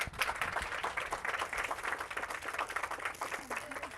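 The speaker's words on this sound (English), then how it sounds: "Give her a round of applause." A training group in a supervisor course claps for a participant, a fairly faint, uneven patter of hands lasting a few seconds with some background voices mixed in.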